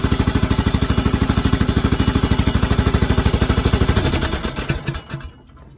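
A mini excavator engine fitted with a stainless exhaust and rain flap chugs loudly with a rapid, steady firing pulse. Near the end it sputters, falters unevenly and dies out into near silence.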